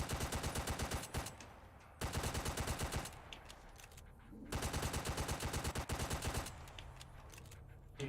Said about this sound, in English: Ooh, someone's taking shots at me.